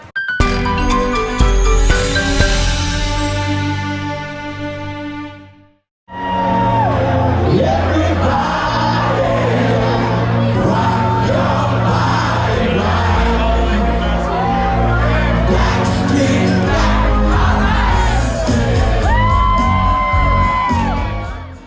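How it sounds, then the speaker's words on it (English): A crowd packs a New Orleans beer garden, shouting and whooping in a dense, loud wash of voices with clinking and music-like tones, after a brief loud burst, a near-silent gap, then sustained din. "It's definitely jam-packed, so the crowd and the atmosphere is great"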